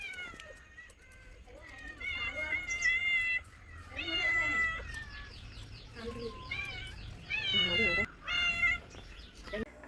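A pretty cat with two different-coloured eyes meows again and again at close range, a string of rising and falling cries with short pauses between them.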